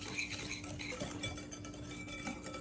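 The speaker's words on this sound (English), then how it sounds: "And then go ahead and whisk it until it's combined." Oil, brown sugar and white sugar being whisked together in a bowl, a soft continuous scraping and light clinking of the whisk against the bowl, quiet and close.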